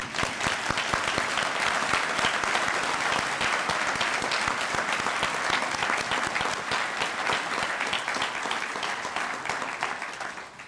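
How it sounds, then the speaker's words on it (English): Parents and friends at a university teacher education convocation give sustained, full-bodied applause, many hands clapping densely and evenly for about ten seconds before easing slightly at the end. "Parents and friends, let's share our applause now."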